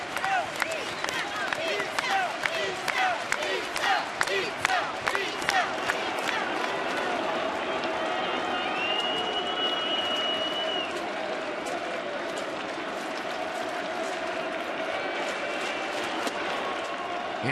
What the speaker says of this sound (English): You know what that cheer was for, don't you? Those kids cheering for pizza.